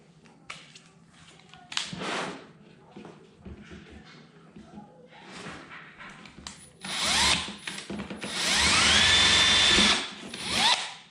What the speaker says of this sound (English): Then next thing you got to do is drill your hole.